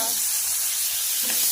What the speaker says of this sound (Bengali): চিংড়ি মাছ ভাজা।